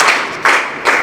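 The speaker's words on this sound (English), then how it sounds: "Clap for her." A group of people clap for a schoolgirl, with three bursts of applause building in loudness and fading between each, close and bright with no talk.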